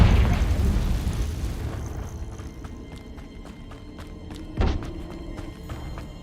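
A heavy explosion from the Confringo spell in Hogwarts Legacy opens loud with a deep rumble that fades over a couple of seconds, followed by light footsteps and a brief thud.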